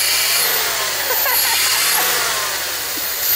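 An abandoned SUV billed as the world's fastest fires up for the first time, its engine catching into a loud, steady, slightly rough idle that holds close and continuous throughout.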